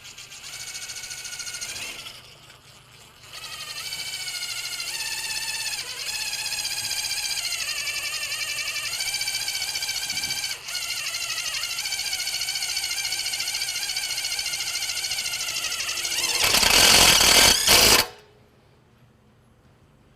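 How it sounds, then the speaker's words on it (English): A self-drilling TEK 5 stainless steel 410 screw is driven into metal, giving a steady, loud whining drill note with shifting pitch for about fifteen seconds, ending in a brief harsher burst before cutting off. "Now I'm going to drive another TEK 5 stainless steel 410."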